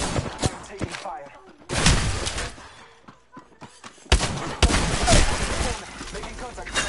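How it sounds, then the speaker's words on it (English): Gunfire erupts in a squad-based shooter video game as several sharp, loud bursts and volleys with quieter gaps between them, and a voice talks through parts of it. "I'm taking fire."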